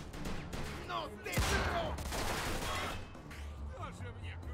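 Gunfire in Mafia II Definitive Edition: a rapid fusillade of shots, one burst louder and closer, over steady background game noise, with a voice talking alongside.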